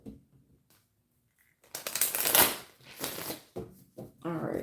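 A tarot card deck being shuffled by hand: quiet at first, then several close, crisp riffling and sliding bursts of card noise, with a voice faintly present.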